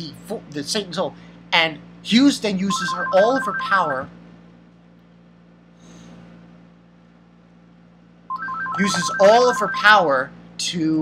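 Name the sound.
telephone ringing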